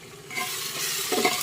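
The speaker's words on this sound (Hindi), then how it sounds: "दही अच्छा से मिला लिए" Yogurt being stirred into a mushroom curry in a hot pan, with a steady sizzle and scraping stir sounds throughout, close and continuous, no talking.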